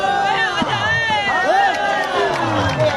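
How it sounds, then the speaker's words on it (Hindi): A crowd at a village volleyball match cheering and clapping, loud and close, with shouting voices and chatter mixed throughout. "जोरदार तालियां"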